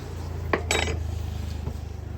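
A large iron kadhai is handled at Mori in Uttarkashi, with a few sharp metallic clanks and knocks over a low steady background hum.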